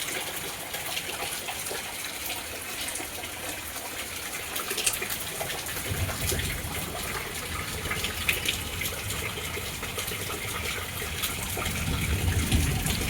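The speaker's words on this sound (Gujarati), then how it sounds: "આજે મોર્નિંગમાં 7 વાગ્યા અને વરસાદ ચાલુ થઈ ગયો" Constant rushing of heavy rain mixed with gushing, splashing floodwater flowing through a residential society, steady and loud throughout with no voices.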